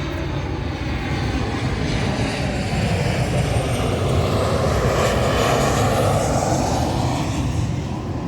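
An airplane flies overhead near a Singapore beach, a loud, steady engine roar that holds for the whole stretch and slowly shifts as it passes.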